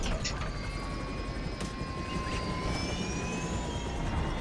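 A helicopter in GTA Online flies overhead and crashes, a loud continuous engine and rotor drone with whining tones holding steady throughout, no voices.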